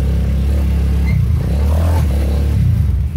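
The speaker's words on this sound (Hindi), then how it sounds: "बाइक स्टार्ट हो गई है। अभी फिलहाल मैंने कहा है बाइक वार्म अप हो जाए थोड़ी देर तक" A motorbike engine idles and warms up just after starting, a steady low rumble with slight clatter heard close and loud without speech. The bike has not been ridden for a full week.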